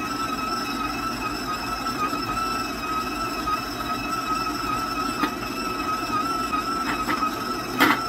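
An electric mixer turned up to higher speed churns cinnamon oatmeal cookie dough, giving a steady high motor whine with faint clatter and an occasional knock near the end.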